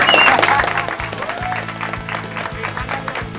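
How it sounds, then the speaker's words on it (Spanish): Applause from an audience at a press conference, honoring an eight-year-old girl picked to represent Colombia at the World Cup in Brazil, loudest at the start and then easing to steady clapping, with a sustained musical tone running underneath. "un aplauso para esta niña"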